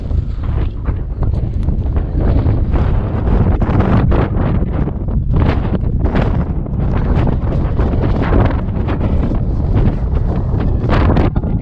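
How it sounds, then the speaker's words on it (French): Strong, steady wind buffets the microphone with continuous low roaring gusts on the Causse Méjean plateau, loud and close throughout, with no voices. "donc là je suis en plein vent"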